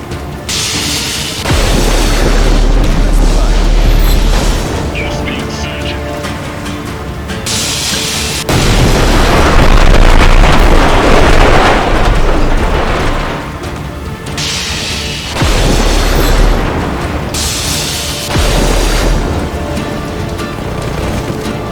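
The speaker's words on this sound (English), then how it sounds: "Who's shooting me with a flak cannon?" Flak cannon fire and explosions in the video game Just Cause 3 make a relentless barrage of deep, heavy booms that rumble in long, loud waves with crashing bursts between them. No one speaks.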